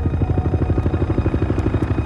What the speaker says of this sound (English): rushes to the crash site in a Navy helicopter